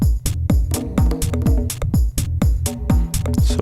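Drum groove loop built in Cubase with a booming 808 kick that drops in pitch, under crisp hats and snare in a busy repeating pattern, loud and close, no voices.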